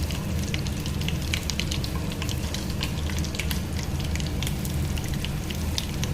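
Mustard seeds, curry leaves and asafoetida sizzle steadily in hot oil for rasam tempering, a dense close crackle with sharp popping spatters throughout and no voices.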